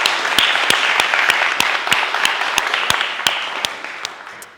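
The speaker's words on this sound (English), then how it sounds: "So big round of applause for Nicole." An audience at a panel discussion applauding a panelist, dense continuous clapping with sharp individual claps standing out close by, gradually tapering toward the end.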